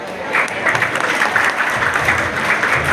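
Sustained, steady applause from an audience at a family couple-dance celebration as three of the youngest couples are introduced, a dense clatter of clapping hands held at an even level throughout.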